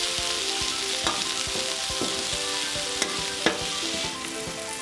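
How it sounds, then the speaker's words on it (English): A smashed burger patty sizzles on a hot plate, a loud continuous crackle with a few sharp spatula taps, close up and without talk. "Flip the patty back onto the front of the hot plate, which has now had some time to heat back up"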